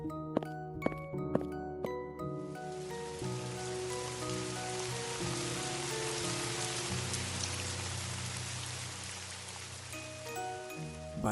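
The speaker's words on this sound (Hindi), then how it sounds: "बारिश लगी हुई है" Steady night rain pouring down on a surface, a dense continuous hiss, preceded by a few bright tinkling musical tones at the start.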